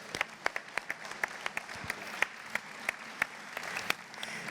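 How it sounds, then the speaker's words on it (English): At the DevSecCon London 2019 conference opening, a modest audience claps for a person invited on stage, a few sharp individual claps standing out over a softer, steady patter for several seconds, with no talking. "let's give Tammy a massive round of applause"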